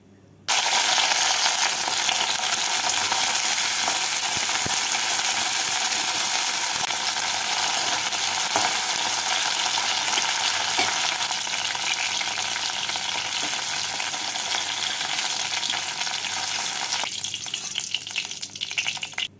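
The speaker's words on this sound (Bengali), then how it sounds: "এবার এই তেলের মধ্যে ঢ্যাঁড়সগুলোকে দিয়ে নাড়াচাড়া করে উঠিয়ে রাখবো।" Okra sizzles and fries in hot oil in a pan while being stirred, a loud continuous crackling hiss with occasional scrapes and clinks, close and steady.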